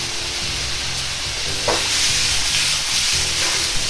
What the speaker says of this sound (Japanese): トマトの切り口の面を下にして表面を焼くようにしていきます。